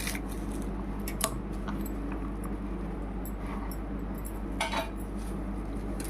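Scissors snipping the fine roots off a bunch of kavali leafy greens: a few crisp metallic snips and clicks, close and fairly faint, spread unevenly over a steady low background hum.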